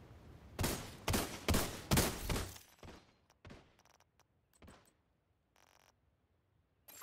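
Rapid gunfire from an AC-12 or Scorpion in a Division Dark Zone match comes as a loud burst of quick shots, then tapers into scattered single pops and fainter cracks with pauses between them.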